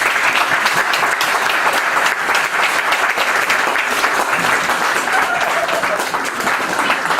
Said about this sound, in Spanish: Fuertes aplausos nuevamente a la brillante exposición del decano de la orden